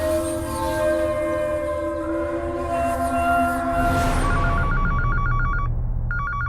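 An electronic telephone ringtone sounds in repeated bursts, cutting in after a stretch of dramatic background music and continuing on its own in a steady, moderately loud ring pattern.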